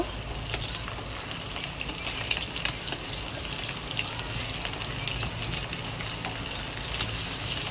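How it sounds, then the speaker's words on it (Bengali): Pomfret fish frying in hot oil gives a steady, dense sizzle with fine crackling that holds at an even level throughout, with no voices. "মাছগুলো উল্টে দিলাম, দিয়ে লাল করে ভালো করে ভেজে নেব"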